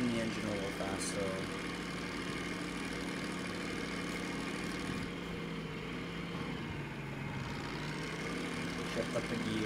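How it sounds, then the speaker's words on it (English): Diesel-electric DM3 locomotive engine in the Derail Valley train game, a steady low droning rumble that holds on evenly throughout with slight swells, with faint talk underneath. "I can spin the engine a little faster."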